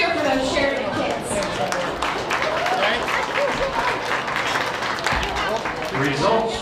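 An audience at a county fair livestock show applauds and cheers, steady clapping from a crowd in a large space with voices mixed in.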